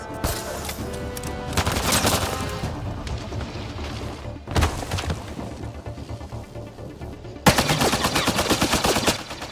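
Dense automatic gunfire from the video game Mass Effect Andromeda rattles almost continuously, loud rapid bursts with brief dips and a sharper crash near the middle before another heavy volley.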